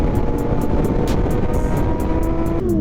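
600cc and 1000cc superbikes ride past at sunset, a heavy, continuous engine roar up close with rhythmic high-pitched ticks over it and a pitch that climbs as the throttle opens near the end.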